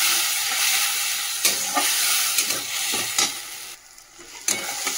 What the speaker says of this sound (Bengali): দিয়ে মশলাটা কষিয়ে নিই।